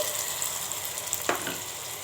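Onions fry in a pan as ground masala for mutton curry is added: a steady, close sizzle with one brief splash-like burst partway through.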